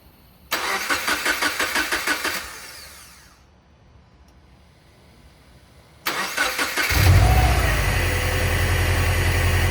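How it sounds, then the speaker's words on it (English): A 2012 Subaru WRX Impreza engine, just fitted with new spark plugs, cranks in a rapid stuttering rhythm, falls quiet, then cranks again and catches, settling into a steady, loud idle close by. "we're going for the first startup"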